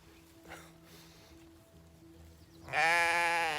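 A single loud, wavering sheep bleat rings out near the end after a few seconds of quiet outdoor ambience.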